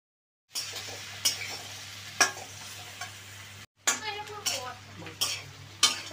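Spoon stirring chili sauce and soy sauce with water in a small bowl for chili chicken, with repeated clinks and scrapes against steady low background hum, no talking.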